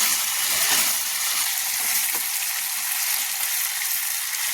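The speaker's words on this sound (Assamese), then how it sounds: "মই মাংসখিনি ভাজি লৈছোঁ।" Chicken pieces frying in a pan until reddish: a steady, dense, hissing sizzle that holds at an even level throughout, close up, with no voices.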